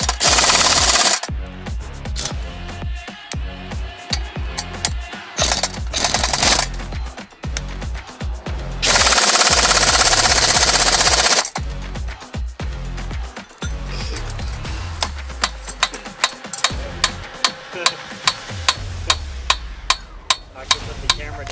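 Sharp metallic blows strike a rusted drive shaft to knock the carrier bearing loose, coming in irregular clusters and then a run of evenly spaced hits near the end, with grinding and scraping between them.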